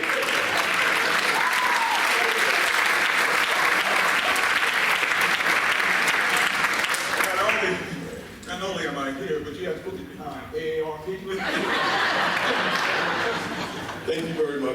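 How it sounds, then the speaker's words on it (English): Loud, sustained applause from an audience at a high school senior achievement ceremony fills the first half, then drops to a lower level with talking and some chuckles over it before the clapping swells again. "everyone, for that nice applause"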